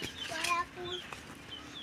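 A brooding hen clucks nearby in a few short, throaty bursts at the start, with people talking around it.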